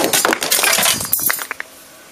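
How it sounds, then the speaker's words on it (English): The door of a 2002 Dodge Stratus opens with a close burst of rattling clicks and clunks from the latch and panel, ending in a few sharp, separate ticks. "just open your door."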